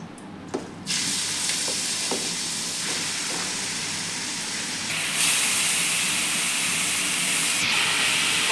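Grated bottle gourd hits hot desi ghee in a kadai: a couple of soft clicks, then a sudden loud, steady sizzling hiss that continues close and strong, intensifying midway, with no talking.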